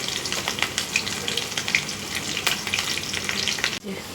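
Chopped green chili frying in hot oil with ginger and garlic, a loud steady sizzle peppered with crisp pops and stirring clinks, close by, cutting off abruptly near the end.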